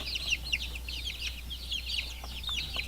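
Several young chicks peep nonstop at close range, their high, thin chirps overlapping in quick repeated bursts throughout, with no talking.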